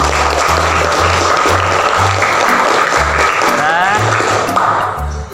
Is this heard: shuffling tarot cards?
no